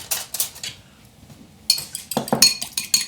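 A fork clinks quickly against a bowl as egg yolk is whisked for a gluten-free wedding cake, bright rapid metallic taps in bursts at the start and again in the second half, close and loud.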